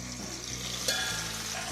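Drumsticks and tomatoes sizzle in hot oil for a pickle, with a steady frying crackle and a spoon scraping through the mixture in slow strokes.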